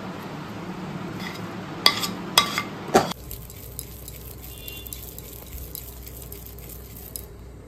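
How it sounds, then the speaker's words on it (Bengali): Hot sesame mixture is poured from a metal pan onto a ghee-greased plate, with a few sharp metallic scrapes and clanks close by, followed by quiet background hiss. "তো দেখো, ঢেলে নিচ্ছি একটা থালায়।"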